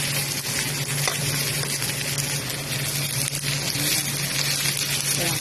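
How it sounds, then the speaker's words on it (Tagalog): Onion and fried tofu sautéing in a pan for a tofu and kangkong dish, a steady broadband sizzle with crackling and occasional stirring clatter, close and continuous with no talk. "Sunod natin ang sibuyas. Isa-gisa lang."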